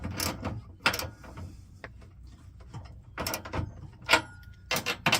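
A hand ratchet clicks in short bursts as finger-tightened bolts are snugged down, several separate ratcheting strokes close by with pauses between them.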